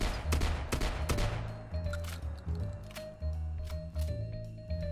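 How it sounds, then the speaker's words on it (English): Pipe combat shotgun from a modded Fallout 4 firing several rounds in a rough irregular volley, each blast sharp and loud with a decaying tail, set over a steady low game hum with no voices. "uses the cobbled together piping to unleash repeated shotgun rounds"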